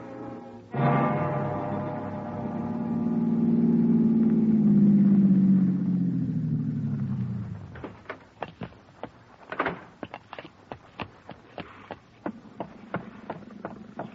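A rented car on a drive from Los Angeles to Newport Beach in a 1950 radio drama, with an engine droning and rising before fading, followed by a string of sharp knocks and clicks.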